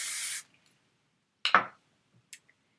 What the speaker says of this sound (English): Spray it with a super or stronghold hairspray